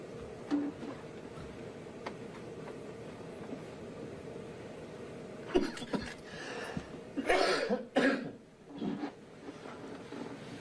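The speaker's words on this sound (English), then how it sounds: "The people that cough in court, man, it's always so fucking loud." In a quiet courtroom, a few sharp coughing bursts break through a low, hushed background, with the loudest fits coming close together near the end.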